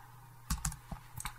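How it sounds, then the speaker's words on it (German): Keystrokes on a computer keyboard as a camera model name is entered into a Canon firmware download site; about five or six quick, separate taps spread over roughly a second, close and fairly quiet. "Das tippen wir unten ein"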